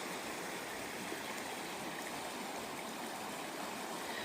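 A river swollen after heavy rain flows with a steady, broad rushing of water that stays constant and fairly faint throughout, with no voices.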